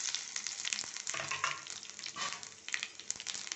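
Mustard seeds and ginger sizzle in hot ghee for a rasam tempering, a steady close crackle with scattered pops and no voices.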